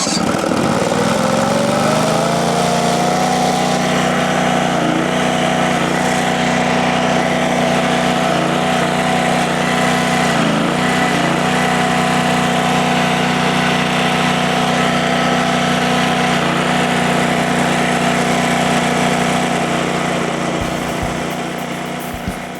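A trencher digs a trench through dirt, its engine roaring loud and steady with a constant churning drone that barely changes over the whole stretch.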